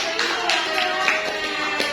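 Clapping from a small group of schoolchildren in a Grade 4 Indonesian-language classroom, a short steady patter of hand claps lasting a couple of seconds, with some speech-like murmur mixed in.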